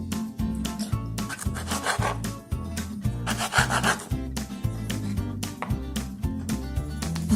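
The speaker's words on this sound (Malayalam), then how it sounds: "ഇതുപോലെ കട്ട് ചെയ്ത് എടുക്കുക." A knife sawing through bread slices for spicy masala bread upma, making a close, repetitive rasping stroke in a steady back-and-forth rhythm with no talk.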